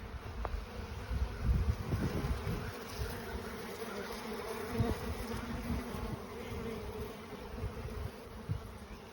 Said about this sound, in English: the bees are robbing out the honey that's left in this little bit of comb that I laid on top